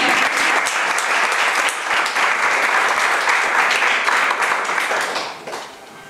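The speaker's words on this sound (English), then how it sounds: "I think it's very appropriate to clap at this point" An audience at a conference talk breaks into applause, a loud, dense burst of clapping that holds steady for several seconds before fading off at the end.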